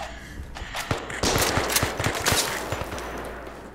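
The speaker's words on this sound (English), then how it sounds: "How many times we gotta shoot them before they fucking die?" Rapid gunfire in the VR shooter Zero Caliber, bursts of loud automatic shots and single cracks layered over a steady low rumble, with dense firing throughout the middle stretch.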